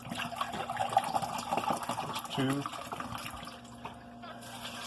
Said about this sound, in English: So I'm going to start off with 2 cups of filter water.